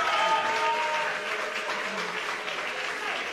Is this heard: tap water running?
no